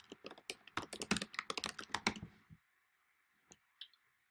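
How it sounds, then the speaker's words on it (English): Rapid clicking keystrokes on a computer keyboard while filling in fields in a document-signing app, a dense burst of close typing for about two and a half seconds, then two isolated clicks in near silence. "it's as easy as clicking to start typing"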